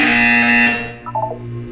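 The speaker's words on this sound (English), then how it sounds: "When you hear the buzzer, look up at the ceiling." Game buzzer from Portal 2, a loud sustained harsh electronic drone for most of the second, then a short burst of higher tones over a lingering low hum.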